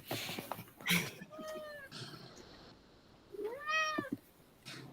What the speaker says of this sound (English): the cat just wants to be part of it